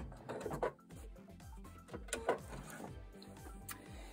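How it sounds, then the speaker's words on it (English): Sewing machine stitching binding along the edge of a quilt sandwich, a steady close mechanical chatter of rapid needle strokes with rhythmic low thumps, running continuously with small bursts of louder clatter. "as we were sewing along, you could do the whole side of a quilt very quickly."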